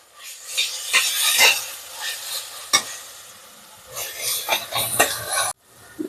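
Ginger and garlic sauté in a pan for a simple mutton white biryani, with a busy sizzle under repeated close scraping stirs that pause briefly near the end.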